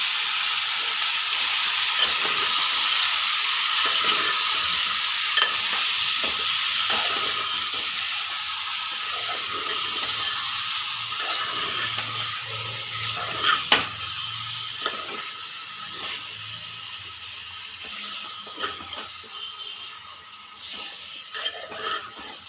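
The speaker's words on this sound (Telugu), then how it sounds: "ఇది నూనెలో బాగా ఉడకాలి ఉడికేంత వరకు మనం మూత పెట్టుకున్నాము" Chicken curry bubbles and sizzles in oil over a high flame, a strong steady hiss that slowly softens over time, with occasional clicks and lid or utensil knocks near the end, no talking.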